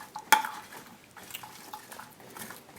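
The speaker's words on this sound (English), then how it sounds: "So then you mix it, or you can shake it up." Marinated vegetables mixed and shaken in a container: a sharp knock near the start, then soft continuous rustling and sloshing of the vegetables, close and low in level.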